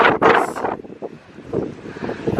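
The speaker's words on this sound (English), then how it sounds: "It's windy today." Wind gusting across the open deck of the ocean liner Queen Mary, buffeting hard at first then settling into a rough, fluttering rush that rises again, close and fairly loud, with no talk.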